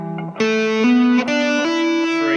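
Distorted electric guitar picks a pentatonic run in a repeating three-down, one-up pattern, each note sustained and even, loud and close with no talking.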